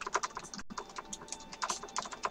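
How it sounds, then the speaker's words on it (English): Rapid typing on a computer keyboard during a StarCraft-style fan replay broadcast, with crisp, irregular key clicks clustered in quick bursts and a brief pause, close and fairly quiet with no voices. "I'll type it in Skype chat right now."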